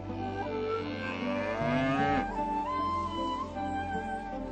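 A cow moos in one long drawn-out call that rises and then falls away, close and clear over a low steady hum.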